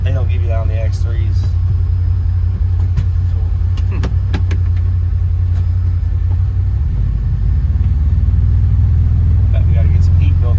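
A 5 ton military truck's engine runs steadily while being heated up, a loud, deep, continuous rumble with a few brief clanks and ticks, and a person talks over it.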